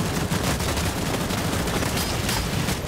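Dense, continuous gunfire from the online vampire battle royale Vampire: The Masquerade - Bloodhunt, a loud unbroken barrage of shots with no pauses, heard alone without talk.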